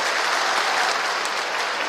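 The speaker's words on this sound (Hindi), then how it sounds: "जब ताली वाली बजा सकते" A crowd at a gathering of village panchayat secretaries, addressed by the chief minister, breaks into steady, dense applause that stays loud and even throughout.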